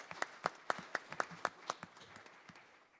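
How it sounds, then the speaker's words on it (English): Scattered hand claps from a small audience at a city council reorganization meeting in Agoura Hills, a dozen or so sharp claps fading out within a few seconds, fairly near and light. "You clap for that."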